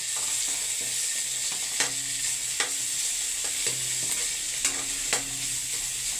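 Sponge gourd (patola) sautéing in a pan, a steady sizzle and frying hiss with several scraping stirs of a utensil against the pan at irregular intervals.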